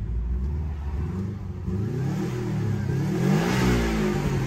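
Subaru Impreza WRX STI engine revving hard in a steady, loud, close drone, rising in pitch and intensity toward the end with no talk over it.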